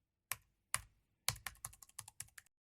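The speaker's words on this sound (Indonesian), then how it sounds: "Suara ketikan komputer." Computer keyboard typing as a film sound effect: three separate crisp keystrokes, then a quick uneven run of clicks, close and clean over silence.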